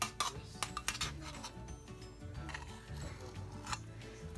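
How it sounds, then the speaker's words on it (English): Small metal utensils clink and tick against each other and a container while a measuring teaspoon is handled during baking powder prep for peanut butter bars, a run of close, light rattles and taps with no talk. "Let me get my teaspoon here."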